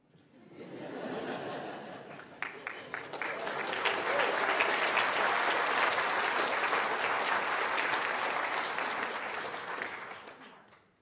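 Graduates of the class of 2020 applaud at a Liverpool University graduation ceremony in 2022. Clapping swells from a few claps into dense, sustained applause mixed with scattered laughter, then fades away.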